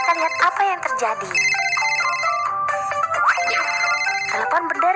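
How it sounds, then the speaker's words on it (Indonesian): A melodic electronic ringtone plays loudly and repeats its tune, a bright phone ringing pattern filling the whole stretch. "Telepon berdering."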